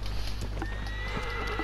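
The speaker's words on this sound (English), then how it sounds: "It's just easier to ride a horse, I think." Horse galloping in the video game Shadow of the Colossus: quick hoofbeats thud along steadily under a constant low rumble, with a brief whinny-like tone partway through.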